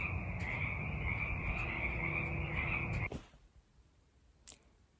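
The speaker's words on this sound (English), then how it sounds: "Can you hear the frogs?" Frogs croak in a dense, steady evening chorus that fills the first three seconds, then cuts off abruptly and leaves near-silence with a single faint click.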